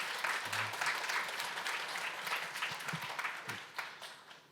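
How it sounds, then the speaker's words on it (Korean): An audience at a hospital and AI panel discussion applauds to welcome a KAIST neuroscience professor, steady mid-level clapping lasting about four seconds, with a brief low voice underneath before it slowly fades. "다시 한번 박수로 환영해 주십시오"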